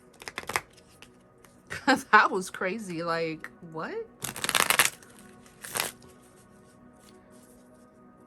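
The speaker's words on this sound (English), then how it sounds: "So let me get back to shuffling." Tarot cards are shuffled in repeated crisp riffles and rustling bursts, close to the mic, while someone talks over part of the shuffling.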